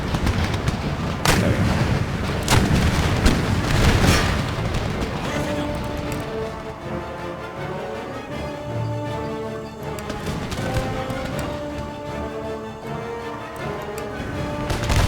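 Heavy cannon fire in Empire: Total War booms several times in quick succession early on during a siege, then gives way to a steady mechanical drone with tonal hum.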